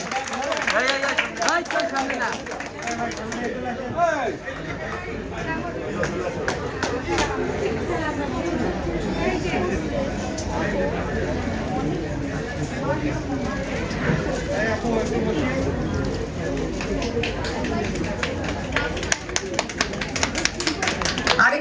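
Applause from an audience at a star-studded Bengali cookbook launch event, a broad wash of clapping running throughout, mixed with crowd chatter and an announcer's amplified voice on stage.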